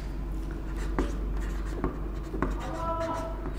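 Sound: writing on a board

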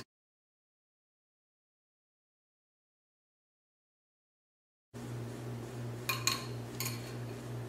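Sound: mixing face mask ingredients in a bowl

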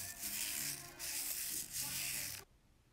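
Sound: scrubbing microphone grill with an old toothbrush

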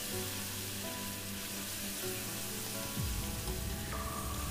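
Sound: cooked beef and onions sizzling while reducing in a pan

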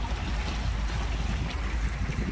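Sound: Stingray cuddy cabin boat with V8 engine cruising on lake

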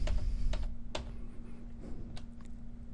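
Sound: computer keyboard keys pressed for cut and paste shortcuts

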